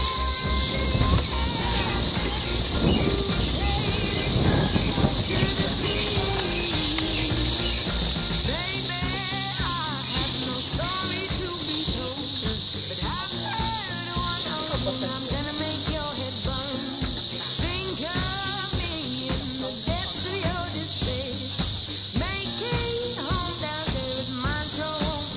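Cicadas buzz in a loud, unbroken high drone, joined by rapid rhythmic pulsing insect calls that keep repeating over the steady background hiss.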